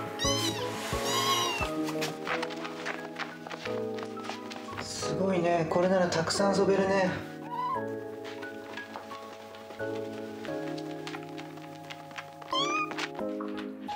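A wet rescued kitten meows repeatedly in high, thin cries, close and clear, while someone speaks softly between and over the calls.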